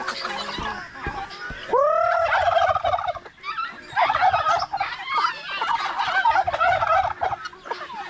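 Farmyard turkeys kept alongside chickens give several loud, bubbling gobbles in uneven bursts close by, separated by short pauses with quieter clucks and rustling between them.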